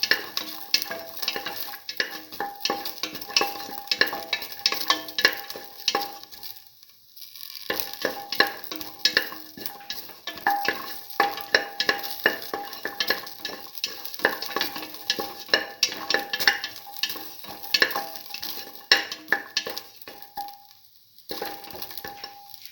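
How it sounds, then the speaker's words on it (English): Garlic and shallots sauté in a pan with a lively crackling sizzle and frequent scraping stirs, continuous and close, dipping briefly twice before resuming. "Saute the garlic and the shallots together."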